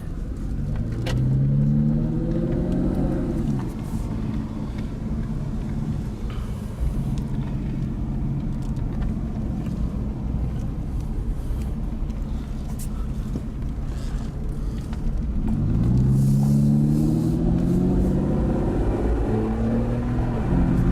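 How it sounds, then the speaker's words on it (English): Aston Martin Rapide V12 engine rumbling steadily while driving, rising in pitch twice as it accelerates through the gears, loud and close throughout. "that V12 sounds amazing"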